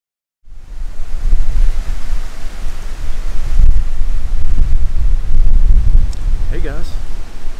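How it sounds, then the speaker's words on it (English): Breezy outdoor wind buffets the microphone in a steady, loud rushing roar that starts abruptly and continues throughout, with a brief voice near the end. "it's a little bit breezy today"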